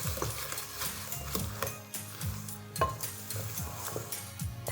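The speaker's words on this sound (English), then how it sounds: "Give it a little stir until it's all combined" Ingredients for a berry chia filling are stirred together in a bowl, with a utensil scraping and knocking softly against the sides in an uneven rhythm, close and moderately quiet, with no voices.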